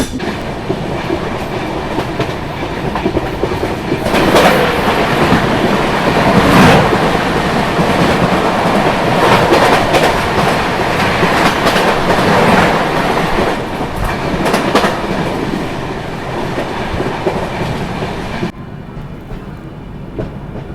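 The Gyaneshwari Express passenger train rolls steadily along with a loud, continuous rumble and rhythmic clickety-clack of wheels over rail joints, close and dominant throughout, easing off slightly at the very end.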